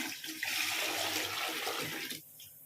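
Water poured into a pot for carrot and beetroot coconut milk biryani, a dense continuous splashing pour that stops abruptly near the end.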